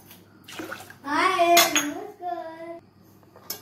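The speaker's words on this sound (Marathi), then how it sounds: "साधारणतः 4 वाटी पाणी आपल्याला यात घालायचं आहे।" Water is poured into a pot of lentils and rice for dal palak khichdi, giving a loud, splashing rush. A voice talks over much of it.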